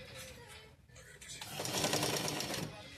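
A sewing machine stitches sleeves and shoulder seams, its rapid mechanical whir starting softly and then running louder and steady at close range, with a voice speaking faintly underneath.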